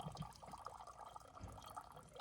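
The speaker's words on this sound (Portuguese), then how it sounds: "A gente percebe que a água já está saindo mais limpa aqui." Water trickling and dripping out of a bucket filter after backwashing, a faint, steady flow with small splashy drips throughout.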